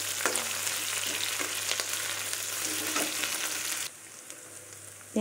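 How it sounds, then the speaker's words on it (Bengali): Chopped onions fry in a pan for a mixed-vegetable dish, giving a steady close sizzle with a few stirring clinks, then the crackle drops sharply to a quieter hiss near the end. "এবার কোঁচানো পেঁয়াজগুলো ভাজতে দিয়ে দিলাম। পেঁয়াজগুলো একটু ভেজে নেবো।"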